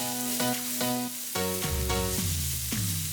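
Onion, garlic and chili sizzle in hot oil in a wok with a steady, bright crackling hiss. A few tonal hums rise and shift over the frying, and no voices are heard.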